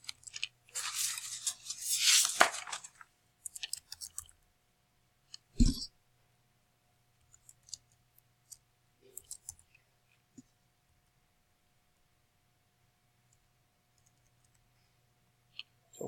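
Computer mouse clicks while a Google Calendar event is edited: a burst of rapid clicking and rubbing near the start, then a few isolated sharp clicks spread over a long quiet stretch, close and fairly soft.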